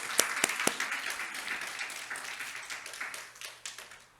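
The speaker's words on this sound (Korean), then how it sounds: "우리 큰 박수, 격려 박수 한번 드리겠습니다" A church congregation applauds its seniors, with a few sharp near claps opening into a steady, moderately loud round of clapping that gradually thins out.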